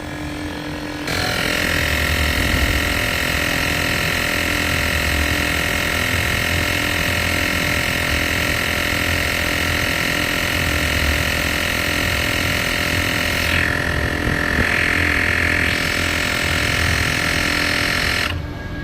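A cordless Avapow AP18 tire inflator pumps air into a car tire, a steady, loud mechanical buzz with a low motor drone that runs unbroken for about seventeen seconds before stopping.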